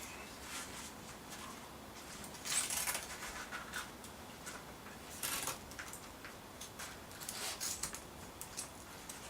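Scissors snip through excess canvas in a few quiet, separate cuts, close by, with rustling of the fabric between them.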